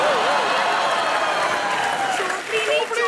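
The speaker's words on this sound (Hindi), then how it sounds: "जोरदार तालियां परिणीति चोपड़ी के लिए।" Loud, continuous applause from a studio audience at a Hindi TV comedy show, steady throughout with crowd noise and a few voices mixed in.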